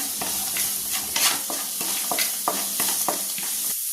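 Chopped onions with salt are stirred and sautéed in a pan for aval upma, and a steady sizzle runs under repeated scraping strokes of the spoon, close and moderately loud, with no talk.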